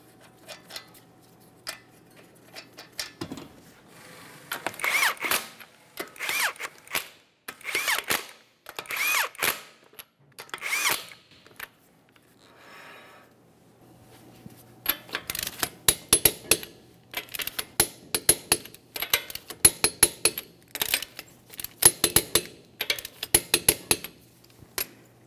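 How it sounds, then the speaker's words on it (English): Wheel lug nuts on a 2010-2013 Kia Forte Koup being tightened with a tool, 21 millimeter nuts, heard as repeated short metallic ratcheting and clanking bursts, close and alone with pauses between them. "Start on all five of your 21 millimeter lug nuts."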